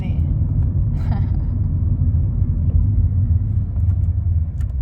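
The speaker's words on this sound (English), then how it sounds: "I'm finally learning how to drive in this city." A car drives through city streets with a steady low engine and road rumble heard from inside, continuous and fairly loud, with a faint brief voice-like sound near the start.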